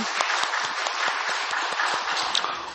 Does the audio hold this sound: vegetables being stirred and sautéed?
no